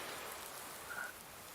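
Rain coming down on wet ground in a Nebraska farming video game, a quiet, continuous patter with a faint tonal blip near the middle, low in level and uninterrupted by voices.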